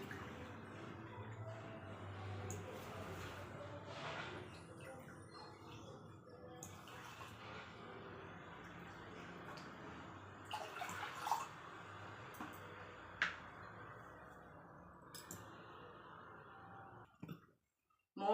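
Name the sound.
water being poured into a pot of ground horse gram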